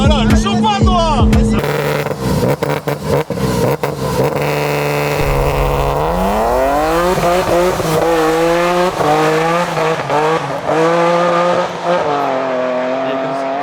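A 1000 hp all-carbon BMW M4 revs loudly and accelerates hard, engine pitch climbing in long sweeps as the tyres spin and squeal, close and continuous, with people talking over it.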